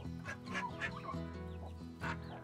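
A turkey vocalizes up close with a run of harsh, throaty clucks and gobbling calls, fairly steady and repeated, heard alone over low background noise on a farm property.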